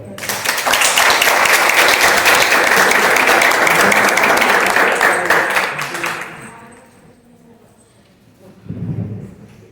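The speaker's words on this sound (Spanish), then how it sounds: "la recibimos con un fuerte aplauso" Audience at a seminar on studies of death breaks into loud, dense applause that holds for about six seconds, then fades into quiet room tone before a brief low thump near the end.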